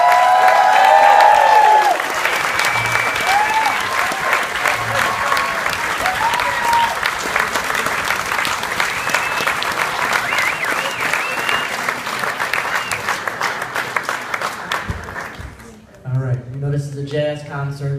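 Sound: audience applause

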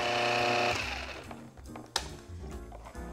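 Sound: food processor blending pie crust dry ingredients

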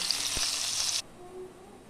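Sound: potatoes frying in mustard oil in a wok

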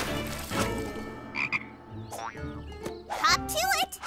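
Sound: frog croaking in a cartoon

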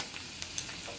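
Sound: julienned ginger frying in a pan

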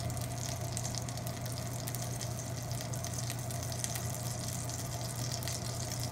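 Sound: steak searing in pan

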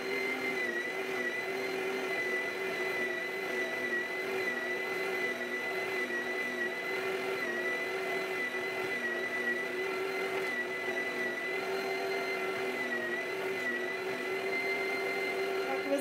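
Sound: electric grinder mincing plums with their skins

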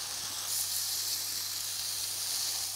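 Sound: marinated pork steak sizzling in hot pan

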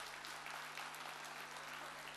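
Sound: audience applause at an event

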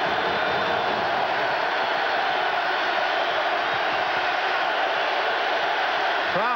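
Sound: stadium crowd noise at a football game

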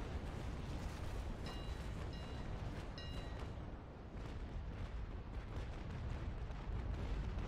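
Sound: cannon broadside fire in naval battle video game

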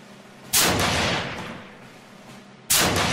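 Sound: gunfire from weapons in combat footage

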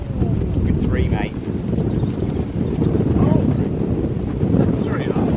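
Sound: strong wind outdoors

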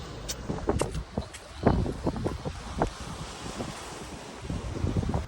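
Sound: strong wind

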